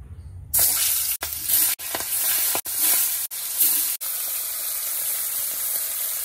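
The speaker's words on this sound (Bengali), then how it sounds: "তো চলো মাছগুলোকে দিয়ে দিই, কড়াই গরম হয়ে গেছে।" Fish frying in a hot kadai: a loud, steady sizzling hiss that starts abruptly and continues with a few brief sharp breaks, heard alone without talk.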